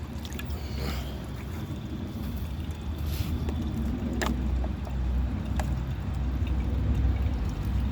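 A 1974 Eljer Sanus low-tank toilet flushing a bowl of wet dirt and ash, a loud continuous rushing and gurgling of water that builds steadily throughout.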